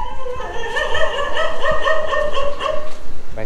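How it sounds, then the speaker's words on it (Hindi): Several dogs bark and yip continuously near a house entrance during a birthday visit, overlapping high-pitched barks filling the scene without pause. "कुत्ते पहले भौंकेंगे, इन्हें देखो भौंके जा रहे हैं।"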